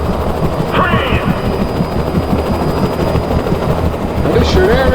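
A police helicopter in the video game Alan Wake keeps up a loud, steady rotor drone throughout, with faint in-game voices and brief chirps over it.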